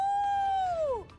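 A human voice imitates a wolf howl with one sustained, wavering tone that slides downward at the end, about a second long and close to the microphone.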